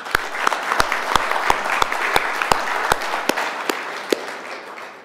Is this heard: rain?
no